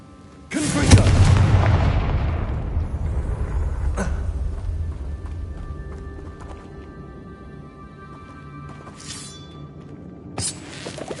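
Confringo blasting spell in Hogwarts Legacy, a sudden loud boom that decays over several seconds into a rumbling tail, followed by a few sharper crackling bursts.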